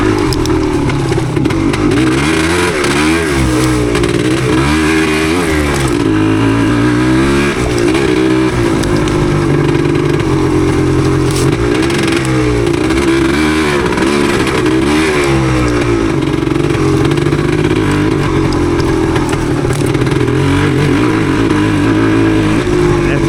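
A 1977 Yamaha DT250 two-stroke motorcycle rides through rough woods, its engine loud and close throughout, rising and falling in pitch as the throttle opens and closes without letup.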